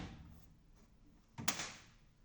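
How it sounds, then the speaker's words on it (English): An HP printer's plastic access door closes with a single sharp clack near the end, following a few seconds of faint handling noise in a quiet room. "Close the access door."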